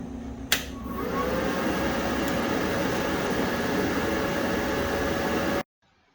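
A YesWelder MIG-205DS-B welder clicks on, then its cooling fan whooshes up to a steady broadband hum for about five seconds before cutting off abruptly, with no talking.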